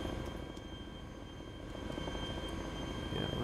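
A helicopter engine runs in Arma 2 DayZ Epoch, a steady broadband rotor and turbine roar, close and continuous, swelling slightly louder toward the end with no talk over it.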